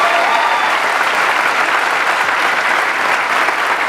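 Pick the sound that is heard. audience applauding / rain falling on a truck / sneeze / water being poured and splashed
audience applauding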